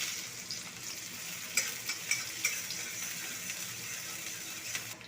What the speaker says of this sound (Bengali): সরষের তেলটা গরম হয়ে গেছে দিয়ে দেবো শুকনো লঙ্কা ফোড়ন জন্য পেঁয়াজ দিয়ে দেবো